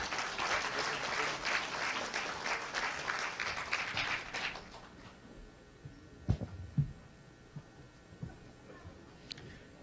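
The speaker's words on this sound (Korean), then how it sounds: "여러분들께서는 큰 박수로 맞아주시기 바랍니다." An audience at a Liberty Korea Party national convention debate claps loudly to welcome the party leader candidates. The dense applause runs for about five seconds, then fades into room hum and a few soft thumps.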